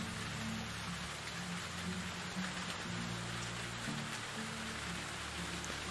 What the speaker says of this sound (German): Wir haben Sommer und es regnet.